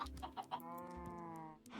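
Minecraft chickens, two different types, clucking in a game farm pen, a few short clucks followed by a sustained tonal squawk, close and clear with no talk.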